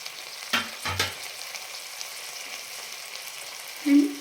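Vegetables tipped into a pan of golden-brown fried onions for tava pulao, sizzling softly, with a couple of sharp clatters and stirring knocks early on and a louder hiss near the end; no talking.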